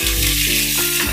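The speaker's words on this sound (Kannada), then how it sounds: "ನಾನು ಇನ್ನೂ ಸ್ವಲ್ಪ ತುಪ್ಪ ಹಾಕ್ಕೊಂಡು ಪನ್ನೀರ್ನ ಫ್ರೈ ಮಾಡ್ಕೋಬೇಕು" Paneer frying in ghee in a pan, a loud, close, unbroken sizzle over a brief moment.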